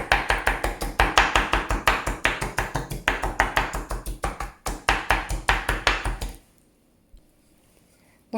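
Rapid rhythmic tapping of a spatula crushing bell peppers, dozens of crisp close taps at a steady pace for about six seconds, then stopping into near silence.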